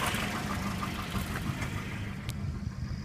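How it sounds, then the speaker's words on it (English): A Volvo 240 engine idles steadily after a cold-idle adjustment, a continuous low rumble with a faint mechanical tick, heard close and alone without talk. "Alright, that seems to be idling a lot happier."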